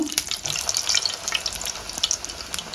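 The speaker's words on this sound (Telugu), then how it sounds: "పూరీలు అయితే ఇలా వేయించుకుంటున్నాము" Puris deep-frying in hot oil for a Rayalaseema-style milk puri dish, a close, busy bubbling sizzle with crackling pops throughout.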